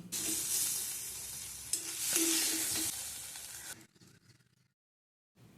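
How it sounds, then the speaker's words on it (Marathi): Capsicum and onion stir-fried in a pan hiss with a strong, close sizzle and a few spatula scrapes for nearly four seconds, then the sound drops away to near silence. "छान हलकेसे डाग येईपर्यंत आपल्याला शिमला मिरची आणि कांदा परतवून घ्यायचा आहे"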